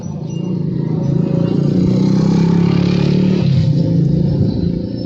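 A motorcycle engine rumbles close by as it passes, its drone swelling to a peak midway and then easing off, alone without talk.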